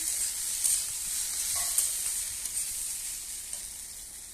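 A potato and okra vegetable curry sizzles in a pan while being stirred, with a soft continuous hiss and a few scraping clicks of the spoon, close and moderately quiet with no talking.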